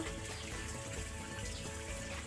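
Water cascading in a small waterfall into a koi pond, a steady continuous splashing rush that stays even and fairly close throughout, with no voices.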